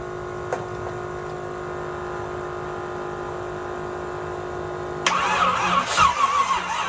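A 1975 Nova engine cranks over with a steady starter whine for several seconds, then catches and roars to life, running loud and rough close by.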